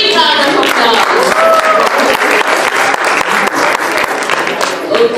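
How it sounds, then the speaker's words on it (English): Big round of applause at a temple summit opening ceremony, loud sustained crowd clapping with sharp individual claps and some voices mixed in throughout. "Give them a big round of applause."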